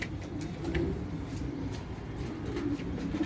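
Homing pigeons cooing softly in a loft, repeated low throaty coos at an even moderate level.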